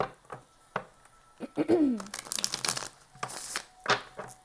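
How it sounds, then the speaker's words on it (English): A deck of tarot cards being shuffled up close, with a few crisp flicks and slides, then a longer crinkling, riffling burst, followed by softer taps and a final brief flutter, with no talking. "we're going to have one more shuffle"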